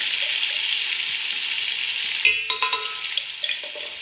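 Garlic and ginger sizzle in hot oil in a pan for mutton dum, a steady close frying hiss that breaks midway into a run of sharp spoon scrapes and clinks from stirring.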